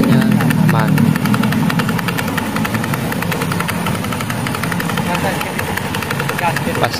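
An automatic scooter engine running with a rough, knocking noise from the front, heard as a steady rapid ticking idle close by, with someone talking over it throughout.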